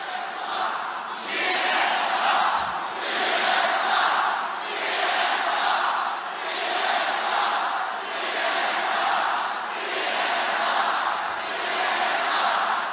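A big political rally crowd cheers and chants in steady, loud surging waves, filling the space continuously with no single voice standing out.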